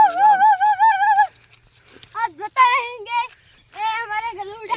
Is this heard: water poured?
no